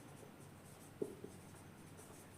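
Chalk or marker strokes on a classroom board during a grammar lesson, a quiet tap and short scratch at about one second and a fainter one shortly after, with a soft room hiss throughout.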